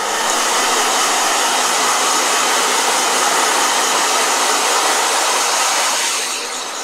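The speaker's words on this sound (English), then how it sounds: "Let's see if this is any blow dryer." A blow dryer runs continuously at close range, a loud, steady whooshing roar that holds level for several seconds and eases slightly near the end.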